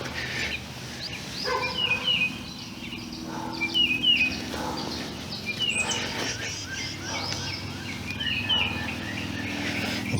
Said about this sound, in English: The birds are really active this morning.